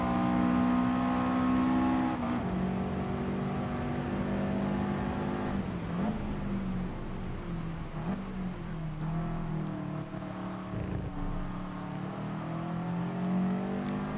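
A Subaru Impreza Coupe WRX Type R STI Version VI in Gran Turismo Sport, its engine droning and revving steadily with pitch rising and dipping through gear changes, loud and continuous without talk.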